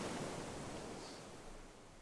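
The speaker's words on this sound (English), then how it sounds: "Nice big waves." Big ocean waves breaking on a breezy day, a broad continuous roar of surf that fades slightly over the stretch, with wind rushing alongside and no talking.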